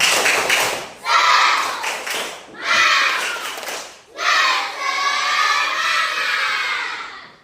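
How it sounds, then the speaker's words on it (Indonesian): A group of schoolchildren performs a rhythmic spirit clap in a classroom training session, bursts of clapping and shouting in three loud phrases separated by short pauses, with the last burst longest. "kita tepuk semangat dulu ya"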